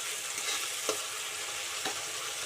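Chicken curry masala sizzles in oil in a pan over a medium gas flame, a steady close frying hiss broken by a couple of soft pops or stirring clicks, with no one talking.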